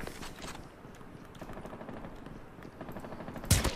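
Rapid bursts of automatic gunfire from the video game Call of Duty Mobile crackle in quick, dense volleys, fairly close, with a louder burst near the end.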